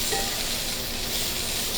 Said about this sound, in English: We're going to stir fry these peppers for about 1 minute.